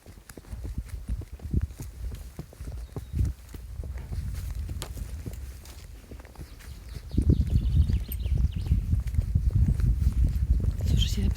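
Rhythmic clip-clop of horse hooves walking on soft forest ground, steady and close, growing louder toward the end, with birds and outdoor background.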